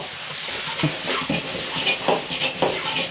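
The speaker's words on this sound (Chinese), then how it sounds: "翻炒均匀就行了" Pork and chili peppers being stir-fried in an iron wok, with steady sizzling and repeated scraping clacks of the spatula against the metal, close and fairly loud, no talk.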